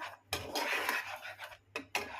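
A utensil scrapes and clinks in a pan while butter garlic chicken is stirred. There are a few sharp metallic scrapes and taps close by, with short pauses between the strokes.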